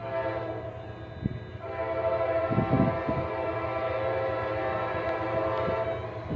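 A mixed freight train passes while its K5LA air horn sounds in long steady blasts over the rumble of the engine and rolling cars, loud and fairly close.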